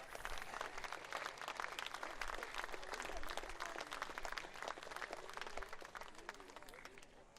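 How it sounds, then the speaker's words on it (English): Spectators at a STIHL Timbersports New Zealand Pro Championship applaud, a crisp, dense run of many hands clapping at even strength throughout, heard fairly quietly with an outdoor arena feel. "Give them another big round of applause, please."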